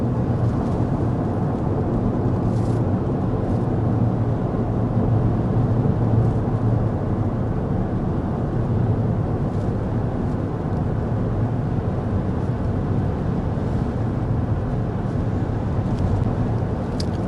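A steady, loud, low rumble of road and wind noise fills the cabin of a 2025 Honda Pilot cruising at 55 mph, even and unbroken throughout with no talking.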